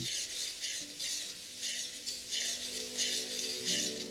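Chopped onion sizzles steadily in hot oil on a high gas flame, with a continuous bright frying hiss and soft repeated scraping and rattling as it is stirred in the pan, close and fairly loud throughout.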